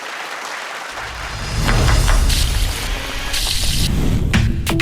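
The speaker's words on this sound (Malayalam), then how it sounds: "നിറഞ്ഞ കയ്യടികളോടെ സ്വാഗതം ചെയ്യാം യതിൻ," A studio audience on the Zee Keralam show Ideabaaz breaks into applause to welcome contestants, starting after a brief quiet moment and swelling into loud, sustained clapping with some whoops, close and full-bodied.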